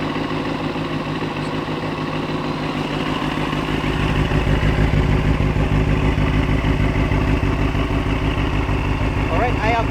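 A 2023 Benelli TNT600i four-cylinder motorcycle engine idles steadily nearby with a rapid, even mechanical chugging that grows slightly louder partway through.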